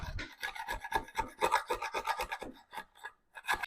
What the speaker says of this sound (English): I'm just going to use it to scrape off these big pieces of glue so it doesn't ruin my planer blades